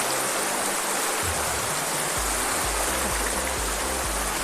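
A brownish river stream flows over large and small rocks and gravel, a steady, close rushing wash of water with no voices.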